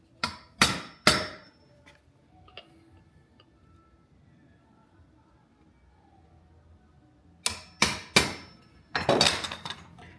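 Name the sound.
chisel being struck to cut hinge recess in wood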